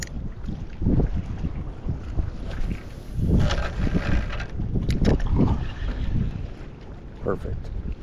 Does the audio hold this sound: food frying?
no